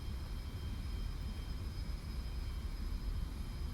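Steady, low jet aircraft roar during a heavy landing in a flight game, a constant engine rumble with a faint high whine, loud and unbroken throughout.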